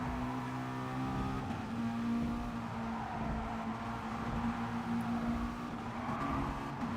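Race cars in a simulated touring car race at Tokyo Outer circuit drone steadily with a continuous engine hum, cars running close together through the opening turns, no voices.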